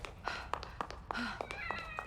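A cat meows in the horror game The Evil Within, a short, faint mew heard over a quiet background of rhythmic footstep-like thuds and low ambience.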